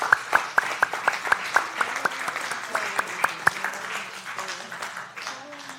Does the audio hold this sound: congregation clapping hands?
yes